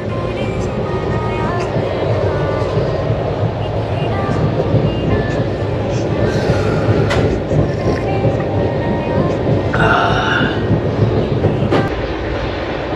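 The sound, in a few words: passenger train running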